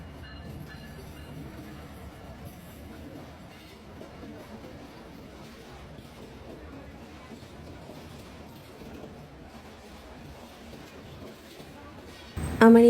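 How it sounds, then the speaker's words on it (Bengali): A train rumbles into a railway station on the way back to Dhaka, a low continuous rolling drone under faint background chatter, ending with a sudden loud, high-pitched horn or squeal close by. "তো এখন আমাদের ট্রেন অলমোস্ট চলে এসেছে।"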